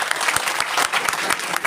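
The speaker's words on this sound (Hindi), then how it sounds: "भाई जी के लिए जोरदार तालियां चाहते हैं।" An audience at a 26 January event bursts into loud, dense clapping, a close and continuous patter of many hands throughout the short stretch.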